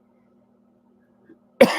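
A single loud, close cough bursts out after near silence and is followed by a brief rough trailing sound, with no talking.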